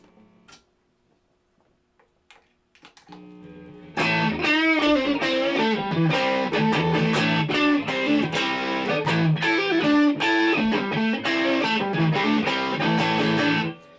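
Electric guitar through a tube amp with the drive engaged, a few sparse plucks and then a loud, distorted strummed and picked passage that plays continuously and up close, with no talking.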